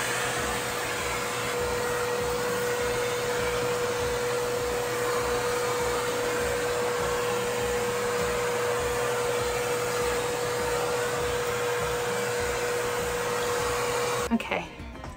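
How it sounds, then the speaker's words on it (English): A vacuum cleaner runs steadily and loud while cleaning a plant shelf indoors, a constant whining drone with a sustained tone that cuts off near the end. "I'm gonna be an entire adult and I'm going to vacuum the shelf."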